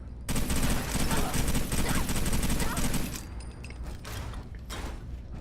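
Heavy weapon in the game Forged In Steel firing a rapid, loud burst of automatic fire for about three seconds, then scattered shots, thuds and mechanical clatter as a voice talks.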